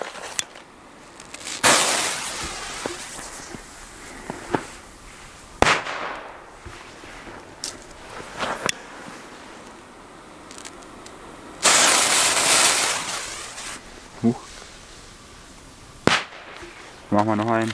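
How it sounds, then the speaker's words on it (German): Chili Böller firecrackers by Pure Factory explode outdoors in snow on New Year's Eve, several loud, sharp bangs spaced seconds apart, with quieter pops and some voices between them. "Dann Chili Böller von Pure Factory."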